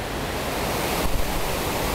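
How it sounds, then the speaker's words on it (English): Mesa Falls on Henry's Fork of the Snake River in eastern Idaho, dropping over 114 feet, gives a loud, dense, unbroken roar of falling water that fills the whole clip. "This is Mesa Falls on Henry's Fork of the Snake River."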